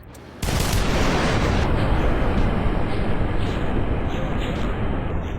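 Rocket fire in a War Thunder replay, heard as a dense, loud, sustained roar of blasts and booms that starts abruptly and continues steadily with no talk.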